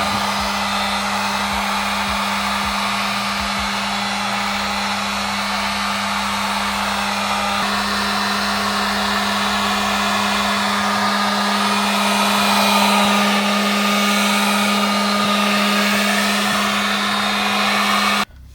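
A heat gun set to low heat blows a steady, loud whoosh with a constant motor hum while warming the painted bumper around a rear reflector, continuous and unbroken throughout with no talking.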